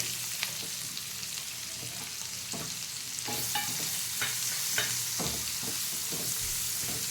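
Onion frying with garlic in a pan, a steady close sizzle with repeated spatula scrapes and stirring strokes, growing slightly louder partway through, no voices.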